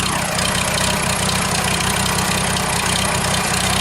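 A 1940 Farmall H tractor idles after a cold start with the choke off, a loud, close, steady low engine chug with a fast, even firing rhythm and a mechanical clatter, with no voices.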